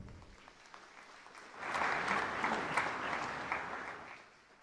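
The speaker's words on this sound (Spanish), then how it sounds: "para ellos, un fuerte aplauso" An audience at an anniversary celebration of a Colombian residents' association in Paraguay, held at a basilica, breaks into a strong burst of applause that swells after a quiet start, holds for a few seconds, then fades.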